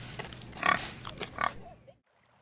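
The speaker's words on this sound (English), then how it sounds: "Oink oink." A pig gives a few nasal oinks and grunts, close and moderately loud, spaced about half a second apart before falling silent.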